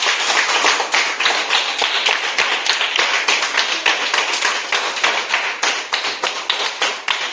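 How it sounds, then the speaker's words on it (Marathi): Loud applause for a teacher at a Konkan primary school, children clapping in a fast, rhythmic, sharp pattern, close and sustained for several seconds without speech. "साक्षी मॅडम यांच्यासाठी जोरदार टाळ्या"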